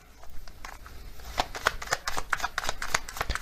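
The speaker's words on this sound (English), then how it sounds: "So I'm going to get some more oracle cards here." Close, steady shuffling of a deck of oracle cards: quick, papery riffles and flicks that grow busier and louder as the clip goes on.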